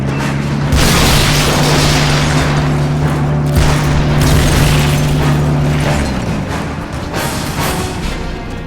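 Heavy weapons fire and deep booming blasts roll through a Metal Gear Solid Peace Walker battle. Repeated loud explosions come over a steady mechanical drone, with no talk.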